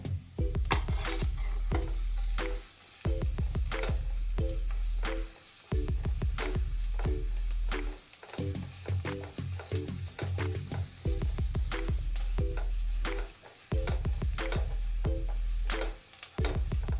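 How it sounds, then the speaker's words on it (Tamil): Steady loud sizzling of chopped garlic frying in hot oil, with frequent stirring and scraping clatter, briefly pausing a few times before resuming. "ஆயில் ஹீட் ஆனதும் பொடியாக நறுக்கி வச்சுருக்கிற பூண்டு,"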